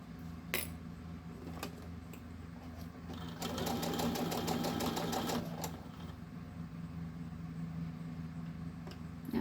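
A sewing machine stitches a keyring lanyard in a short, fast burst of rapid mechanical ticking, framed by faint, occasional clicks against a low, steady background hum.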